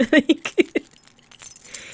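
Keys jangle in a quick burst of several bright metallic clinks close by, followed by softer rustling and faint jingles.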